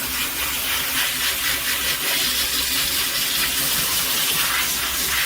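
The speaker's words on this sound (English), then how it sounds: "Really easy to clean with the sprayer." A sprayer blasts water over a dirty filter, making a steady, close, loud hissing gush with a slight pulsing texture and no voices.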